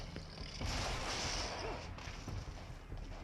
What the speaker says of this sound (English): Always interesting when you get an explosion to happen after the break.